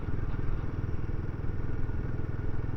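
A 2024 Royal Enfield Guerrilla 450 motorcycle is underway, its engine making a steady, throbbing low rumble with dense regular pulses, close and fairly loud throughout.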